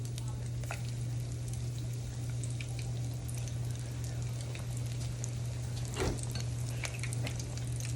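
Beer-battered onion rings, made with Yuengling beer, frying in hot oil: a continuous dense crackle and sizzle with a steady low hum underneath and scattered sharper pops, one louder burst near the end.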